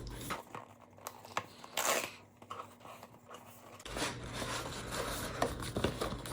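A Google Home Mini box is opened by hand, its packaging giving close crinkling, tearing and scraping sounds in short bursts with a brief louder rustle, followed by steady rustling of cardboard and paper.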